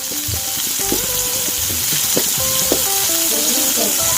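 Drained cauliflower fries in a hot pan with cumin seeds, giving a loud, continuous sizzle broken by sharp spluttering pops and crackles throughout.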